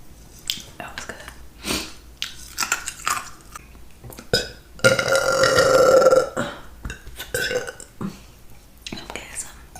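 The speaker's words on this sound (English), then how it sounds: "I'm getting some like decent burps on this drink." Burps after drinking come close to the mic, one long loud belch in the middle among shorter gulping and mouth sounds, with soft whispered talk in between.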